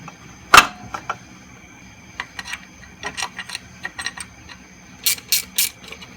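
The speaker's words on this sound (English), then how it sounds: "Every single time I pick up one of these gear wrenches, I start turning it in the wrong direction" Ratcheting gear wrench turning a water pump bolt on a 5.7L Hemi engine, giving short sparse bursts of clicking with pauses between, then three quicker louder bursts near the end, close by and with no talk.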